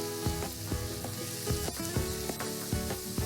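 Dal and grated radish sauté in hot oil for a dry bhaji, giving a continuous close sizzle broken by regular scraping and clicking from stirring.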